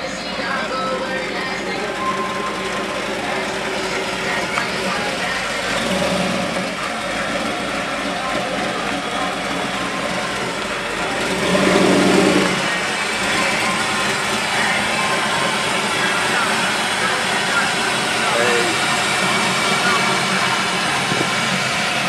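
A drag race car engine rumbles and revs at the start of a grudge race at an outdoor car show in Morocco, Indiana, a loud continuous roar with a swell near the middle, crowd and talk mixed in.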